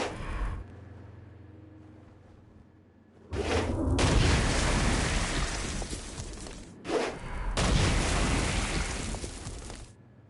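Heavy, roaring blasts of a Stone Blast attack in a video game burst out twice in quick succession, each a dense wall of crashing noise after a brief quiet lead-in.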